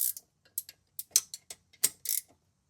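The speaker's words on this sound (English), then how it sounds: "I'm gonna pull that fitting off now." A brake line fitting being loosened and pulled from a Jeep JLU brake caliper gives a run of sharp, close metallic clicks and ratchet-like ticks in uneven bursts, with nothing else in the background.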